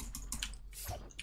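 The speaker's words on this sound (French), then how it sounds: "Je sais pas si vous entendez comment je clique." Quick, soft clicks from a mouse during a game of Fortnite, several rapid taps in a short burst, faint and close, with no talk.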